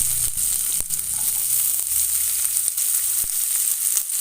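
Chopped onions sizzle and fry in hot oil, a dense, steady crackling hiss filling the whole stretch with occasional sharp pops and stirring clinks.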